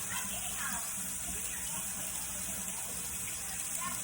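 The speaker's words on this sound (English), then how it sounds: "Come to the sink, wash your hands." Water runs steadily from a kitchen sink faucet while hands are washed, a continuous close hiss with light splashing and no talk.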